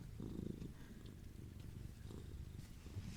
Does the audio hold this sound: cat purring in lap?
yes